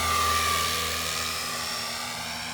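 A Blade Infusion 210 RC helicopter hovers close by, its rotor and motor making a steady high whine with a buzzing blade drone throughout, loud and unbroken.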